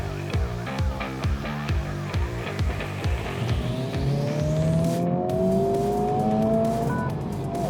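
A Honda Civic Type R FL5 with its 2.0-liter VTEC turbo engine pulls hard through rapid rising revs and gear changes, ending in a sustained loud climbing drone up close, with no voices.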